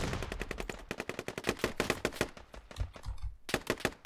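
Rapid bursts of sharp video game gunfire from a forest war game with rebels crackle in quick succession, loud and dense, with brief gaps before more volleys of shots.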